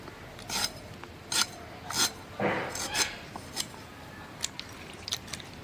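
Ginger and garlic paste ground on a stone by hand, giving repeated rough rasping strokes in an uneven rhythm, close and moderately quiet.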